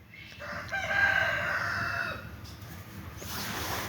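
A Modern Game chicken at a fancy poultry farm gives a loud, drawn-out crow followed by softer clucks, close by and alone.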